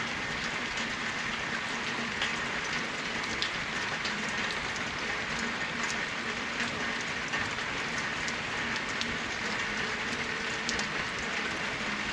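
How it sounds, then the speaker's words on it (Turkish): Steady rain patters on a surface, an even hiss with scattered drop ticks and no voices. "yağmur yağıyor."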